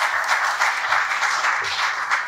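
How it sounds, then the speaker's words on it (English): An audience at a panel event on Namibia's energy transition applauds steadily. The dense clapping fills the room evenly and stays loud throughout. "A round of applause for her."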